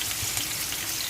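Onion with cumin sautés in a pan, a brief, even crackling sizzle heard up close.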